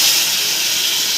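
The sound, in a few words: water poured into hot pan of sautéed tomatoes, hissing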